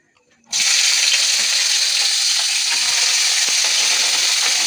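Vegetables slid gradually into hot oil in a pan set up for white sauce pasta, setting off a sudden, steady broadband sizzle that stays loud and continuous after a brief quiet start.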